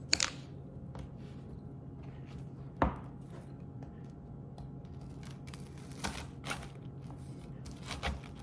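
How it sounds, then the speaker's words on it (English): A knife cuts homemade Rice Krispie treats into squares. A handful of soft, scattered chopping taps and thuds come through close by against a quiet background, with no one speaking. "So now I have my knife and I'll cut them up into squares."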